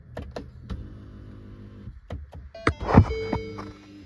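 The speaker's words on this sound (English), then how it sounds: "Now you're going to hear the motor go." A whirring Lincoln electric park brake motor runs in short bursts among clicks and clunks, with a louder mechanical grinding surge in the middle, close by during a rear brake job.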